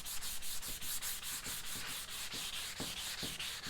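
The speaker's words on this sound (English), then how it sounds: "now I'm going to take what's my very fine, about a 220 sanding sponge, and I'm going to go over the whole thing one good time" Hand sanding an antique wooden rocking chair with a fine 220-grit sanding sponge, close rhythmic rasping strokes repeating about three times a second, steady and alone without any voices.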